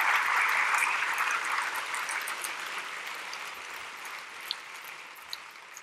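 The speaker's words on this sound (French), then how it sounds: "je voudrais qu'on applaudisse nos équipes" Audience applauding the organizing teams at a games festival, a broad soft wash of clapping that is faint and distant, fading gradually over several seconds with a couple of isolated claps near the end.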